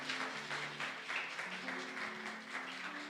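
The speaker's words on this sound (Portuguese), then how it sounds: "Aplauda o Senhor Jesus nessa noite." A church audience claps in a steady, moderately distant round of applause, with sustained musical tones underneath.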